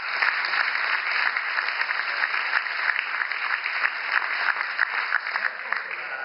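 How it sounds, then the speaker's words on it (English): Gala audience at the Jefferson Awards in Chicago applauding themselves, a dense, continuous wash of clapping held at steady volume for several seconds. "Give yourselves a round of applause."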